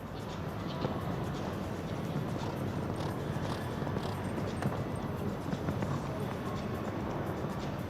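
Horse hooves cantering on the arena surface at a five-star 1.50m show jumping competition, rhythmic muffled hoofbeats under a steady background of crowd and arena noise, with a commentator talking over them.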